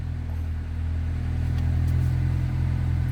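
A 2002 Honda Accord with its check engine light on runs after starting, giving a steady, loud low idle rumble with strong low harmonics that holds even throughout.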